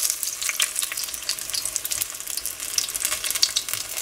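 Apple wontons frying in a pan of hot oil make a steady, close sizzle with dense crackling and popping that runs the whole time, with no talking.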